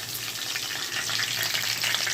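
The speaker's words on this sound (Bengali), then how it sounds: "পটলগুলো একটু ভালো করে ভাজা হোক" Pointed gourd (potol) pieces frying in a pan, giving a constant close sizzle and bubbling crackle with a low hum underneath, no voices.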